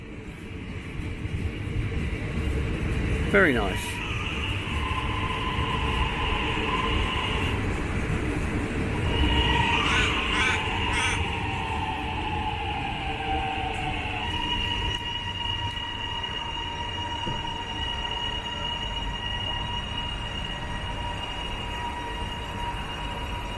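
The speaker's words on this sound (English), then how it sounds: "Here's one of our more recent modern trains coming in." A modern suburban train pulls into Caulfield railway station in Victoria, a steady rumbling roll with rising and falling electric motor whine, fairly quiet and continuous; a person speaks briefly.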